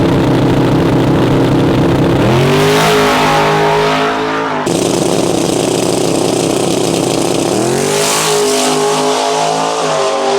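Drag racing car on the strip revving hard through two loud climbing pulls as it drives out a power wheelie, with a sharp cut between the runs and a deep engine roar throughout.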